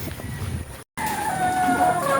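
Chickens at a backyard poultry yard, a brief burst of clucking and a drawn-out crowing call from a rooster, cut by a short dropout, with the crow sounding fairly close.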